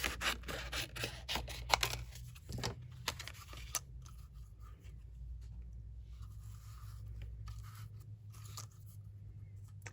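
Scissors trim a piece of paper in a craft session, a few close, crisp snips and crunches early on, then quieter rustling and handling noises, with no voices.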